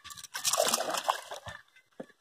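A peacock bass thrashes and splashes at the water's surface while being fished in the Amazon near Barcelos, a loud close burst of sloshing spray that fades into smaller splashes and drips.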